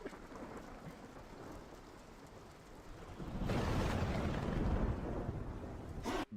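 A thunder and rain effect opens an animated piece: steady rainfall hisses, then a heavy rolling thunder rumble swells up loud and lingers before cutting off abruptly.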